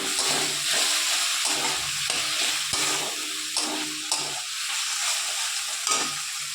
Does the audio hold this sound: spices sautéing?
yes